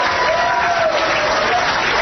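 A studio audience on a 2008 radio talk show applauds steadily throughout, a dense, even wash of clapping at moderate loudness with no talk over it.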